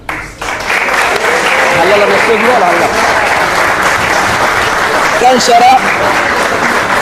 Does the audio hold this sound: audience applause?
yes